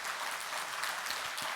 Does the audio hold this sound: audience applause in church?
yes